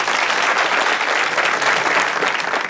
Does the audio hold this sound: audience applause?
yes